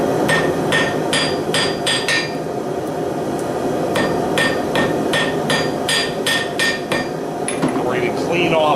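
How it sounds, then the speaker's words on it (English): Hot bandsaw blade steel is hammer forged and forge welded, ringing metallic hammer strikes landing in quick irregular clusters over a constant loud roar of the forge fire, close and without talking. "we're going to start to shape this and forge weld it together."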